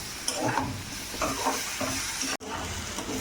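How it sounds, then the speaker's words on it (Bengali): Jackfruit and masala frying in a pan while being stirred, a close steady sizzle with scraping, clattering stir strokes and one brief cut in the sound. "দিয়ে একটু ভালো করে মশলাটা কষিয়ে নেব"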